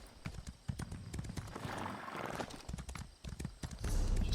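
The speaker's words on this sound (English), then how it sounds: "let's get back on our horse." Horse hooves clip-clopping in a steady rhythm as a rider travels in the video game Elder Scrolls Online, fairly close and clear with little talk.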